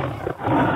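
A Minecraft tiger lets out a short, loud, growling roar while attacking a goat, rising again after a brief dip and holding to the end.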